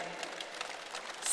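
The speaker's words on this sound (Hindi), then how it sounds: "जोरदार ताली ठोको" Faint, brief burst of audience applause at a yoga and health-testimony gathering, a soft spatter of many hands clapping at a distance with no talk over it.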